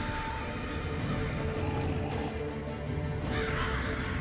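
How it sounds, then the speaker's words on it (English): Crows thrown by the Leshen in Monster Hunter World, a burst of cawing and fluttering birds layered over dense game music and battle noise, continuous for several seconds. "The birds don't do much damage, but he can throw them out fast."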